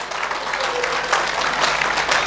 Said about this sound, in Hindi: ताली बजाओ तो जोरदार बजाओ।